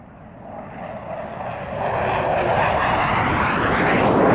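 An SU-27 Flanker jet at an airshow display, a broadband engine roar swelling steadily louder as it approaches, with no talk over it.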